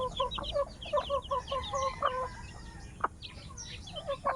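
A hen clucks repeatedly with her seven chicks close by, her rhythmic clucks mixed with high peeping from the chicks, heard close and alone outdoors.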